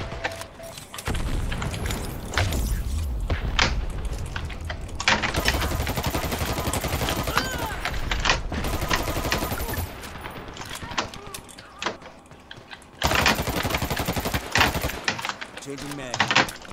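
Gatling gun fire in a multiplayer video game match, loud sustained bursts of rapid shots that start, stop and resume several times, with a player talking throughout.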